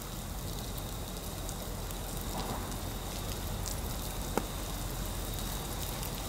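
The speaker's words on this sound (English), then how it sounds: "Very wet, very rainy, but here she comes." Steady, even rain pours down in a broad wet hiss on a foggy day at the Sydney Harbour entrance, continuous and fairly loud, with one brief sharp tap partway through and no voices.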